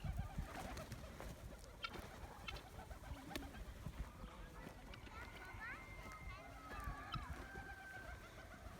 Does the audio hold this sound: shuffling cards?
no